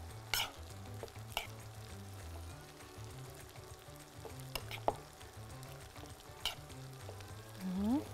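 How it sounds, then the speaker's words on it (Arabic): A sweet corn salad is stirred in a bowl, with soft continuous mixing and scraping, a few sharper clicks of the utensil against the side, and a low steady hum underneath. "ماشي نقلب بقى كده السلطة بتاعتنا كويس"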